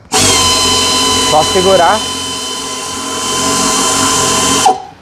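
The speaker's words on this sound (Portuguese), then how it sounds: "Com a pneumática já na cabeça lá da porca." A pneumatic tool drives a nut on the underside of a small upholstered stool, a loud steady whine that runs nearly the whole time and briefly dips in pitch as it loads up, while someone speaks over it.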